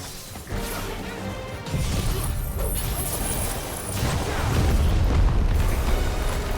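Bombs blast in the Final Fantasy 16 video game, producing continuous loud crashing booms and rumbling bursts that swell through the passage without speech.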